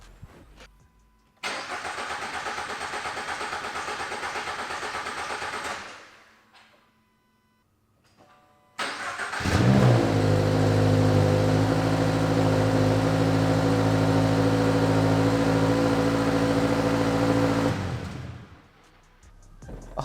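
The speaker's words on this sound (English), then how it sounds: "the GR86 actually starts and runs, and it sounded really good too" A Toyota GR86 with a newly swapped engine cranks over, stops, then cranks again and fires up, settling into a loud steady idle close by with no talking.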